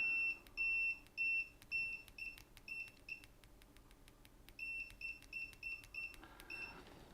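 Loud, piercing continuity beeps from an Owon XDM1241 4½-digit digital multimeter, sounding in two long runs of steady repeated tones with a short gap between, and no talking.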